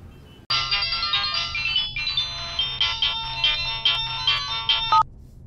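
A mobile phone rings with a bright, melodic electronic tune, repeating its short chiming phrase loudly and steadily for about five seconds before cutting off, with no talking over it.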